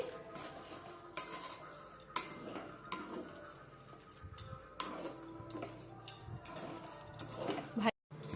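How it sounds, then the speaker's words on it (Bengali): Lentil filling for dal puri being mixed by hand with salt and a little sugar, giving soft scraping and clinking utensil sounds against a bowl, scattered irregular taps and stirs, fairly faint and close. "পরিমাণ মতো লবণ সামান্য চিনি সব কিছু ভালো করে একসাথে মিশিয়ে নিচ্ছি"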